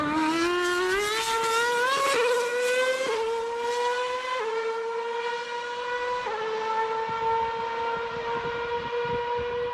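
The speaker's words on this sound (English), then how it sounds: "That is the last of the V8-powered cars. And so that's why it sounds so awesome." V8-powered NASCAR race cars roar loudly at high revs, engine tone climbing with each upshift and dropping back in a steady sequence of gear changes, with no talk over it.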